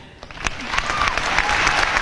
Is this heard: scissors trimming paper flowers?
no